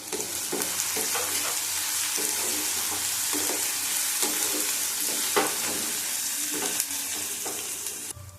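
Five chillies frying in a pan of hot oil for a chicken tadka, a steady close sizzle with repeated stirring scrapes throughout.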